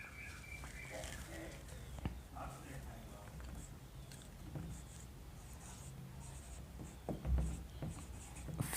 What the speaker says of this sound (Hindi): आज इसको मैं लिख देता हूँ